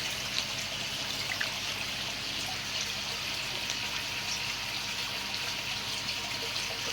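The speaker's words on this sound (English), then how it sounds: "Just going to put some pond water." Pond water pouring into a container, a continuous close trickling and splashing hiss that holds steady throughout with no talk.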